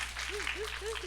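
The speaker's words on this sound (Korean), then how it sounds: "박수 부탁드립니다." Audience applause at a film festival talk with a Korean actress, soft steady clapping beneath a quiet voice and a low electrical hum.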